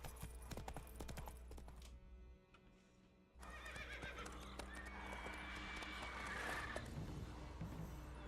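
Horse whinnying and clip-clopping hooves in a video game, a loud neigh cutting through steady game ambience, a brief near-silent gap, then trotting hooves that continue to the end.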